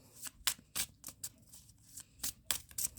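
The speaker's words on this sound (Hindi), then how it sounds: "Last shuffle, next section." Tarot cards shuffled by hand in a quiet room, a run of quick papery riffles and flicks in short bursts, close and fairly soft with no voice over them.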